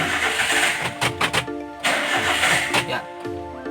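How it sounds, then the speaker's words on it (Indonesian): A car engine with electronic fuel injection being cranked by the starter during a relay check, a rough whirring crank with uneven pulses that fails to catch, loud and close, with a voice talking over it. "Selanjutnya kita coba di starter lagi."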